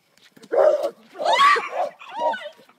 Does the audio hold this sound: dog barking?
yes